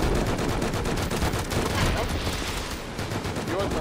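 Rapid M2 machine gun fire during a raid in a survival video game, loud dense bursts of repeated shots in a near-continuous stream, with other gunfire mixed in.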